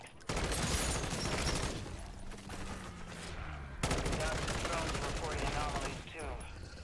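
A full-auto M-16 in MW3 Zombies firing long, dense bursts of rapid gunfire, loud and close, with a short pause midway before another sustained burst, a voice faintly underneath.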